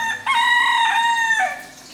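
A rooster crows once, loud and close, in a Kerala home kitchen where rice pathiri is being made, with a long drawn-out call that trails away.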